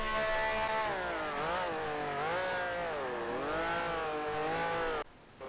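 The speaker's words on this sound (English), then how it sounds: "The engine sound is a bit loud." A race car engine in a sim racing game screams loudly and continuously, its pitch swinging up and down through gear changes and throttle, before cutting abruptly to a quieter view near the end.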